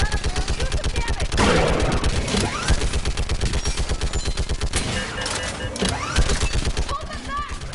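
A mounted gun in Mass Effect 3 fires a rapid, steady stream of heavy shots in a close, loud pulsing rhythm that continues throughout, while voices call out over the shooting.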